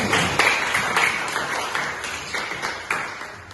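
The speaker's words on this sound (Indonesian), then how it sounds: "Tepuk tangan dulu teman-teman" Classmates clapping their hands in a classroom, a short burst of scattered applause from a small group that fades out within a few seconds.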